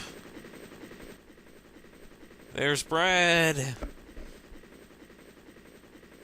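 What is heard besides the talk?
helicopter arriving in Resident Evil DS video game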